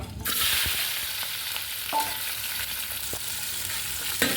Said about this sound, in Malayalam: ഇളക്കാം ക്യാപ്സിക്കം ഇട്ടതാണ്